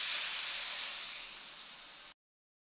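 A little water is poured into a frying spice mix in a pan over a low gas flame, setting off a loud, continuous hissing sizzle that slowly fades and then stops abruptly.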